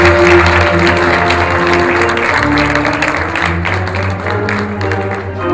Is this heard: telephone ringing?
no